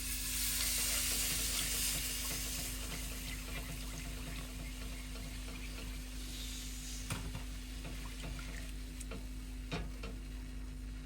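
A cup of milk hits a hot pan of gravy, giving a loud hiss and sizzle that eases into a softer steady bubble, with a few faint clinks of a utensil.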